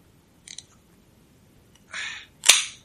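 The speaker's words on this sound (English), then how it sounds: "Matthew Haas, who is opening up a Code Red Mountain Dew" A sweaty can of Mountain Dew Code Red being opened up close: a few small clicks, then a short fizzy hiss and a sharp crack of the tab with a burst of fizz.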